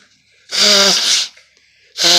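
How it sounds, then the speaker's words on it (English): A loud, close sneeze with a sharp intake of breath, followed by the start of a second sneeze. "I'll aim my sneeze at them"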